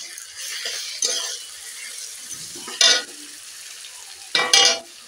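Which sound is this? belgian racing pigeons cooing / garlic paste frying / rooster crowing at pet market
garlic paste frying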